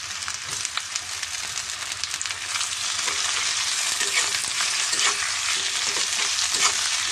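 Dried fish frying with onions in hot oil, giving a continuous close sizzle that grows louder partway through, with occasional stirring scrapes in the pan.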